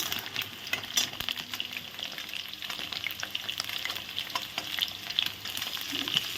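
Potatoes with salt and turmeric fry in hot oil in a pan for chicken curry, a steady close sizzle and crackle with occasional scraping stirs throughout, no voices.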